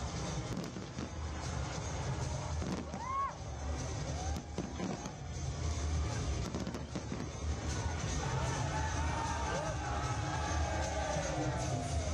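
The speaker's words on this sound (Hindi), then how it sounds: "जैसी आतिशबाजी बनारस में हुई, वैसी आतिशबाजी आज अमृतसर की फिजाओं में भी, वहाँ के आसमान में भी देखी गई।" Fireworks over Amritsar with a crowd: continuous crackling and popping bursts under a noisy murmuring crowd, with occasional whistling rising tones, steady and fairly distant throughout.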